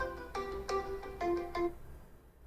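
A short melodic phone ringtone, about five bright tones in quick succession, fading out afterward.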